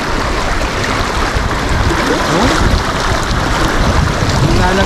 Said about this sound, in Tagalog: Malakas yung current niya